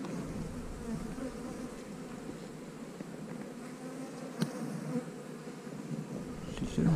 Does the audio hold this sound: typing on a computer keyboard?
no